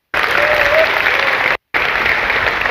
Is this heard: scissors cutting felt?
no